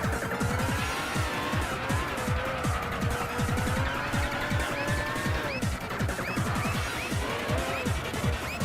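Car tires squeal continuously through a spin in Gran Turismo 6, rising and falling tire screech over a loud, steady racing engine drone with gear-like pulses, no voices.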